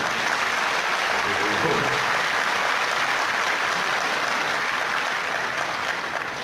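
An audience applauds a speech with continuous, dense clapping that holds at an even level throughout, with no break or voice over it.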